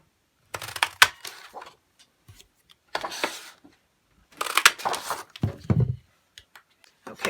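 Sharp clicks and crunches of a Stampin' Up! paper punch cutting shapes from paper, several separate presses with quiet gaps between them, close and fairly loud.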